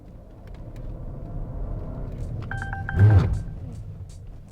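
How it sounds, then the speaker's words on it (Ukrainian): A Volvo S60 AWD turbo brakes automatically before an obstacle: a steady low road and engine rumble, a quick run of electronic warning beeps, then a brief louder surge as the car comes to a halt. "Як ви бачите, автомобіль сам зупинився перед перешкодою."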